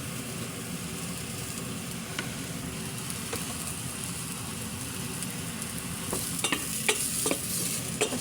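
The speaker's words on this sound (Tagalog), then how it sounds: "So mag-add tayo ng garlic powder." Browned onions frying with garlic powder in a pan for tinola give a constant close sizzle with light stirring, then a few sharper clinks and scrapes near the end, no talk.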